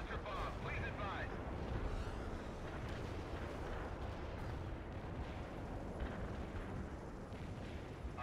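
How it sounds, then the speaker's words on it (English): Sustained rumbling of an artillery barrage in World in Conflict: Soviet Assault, a dense, loud low-end roar with scattered booms running throughout, overlaid by faint game radio chatter. "Artillery barrage was a no-hit"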